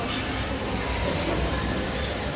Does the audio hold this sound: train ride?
yes